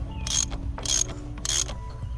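A ratchet with a 32 mm socket tightens the oil filter housing cap on a BMW S58 engine, giving three short, close bursts of rapid clicking separated by brief pauses.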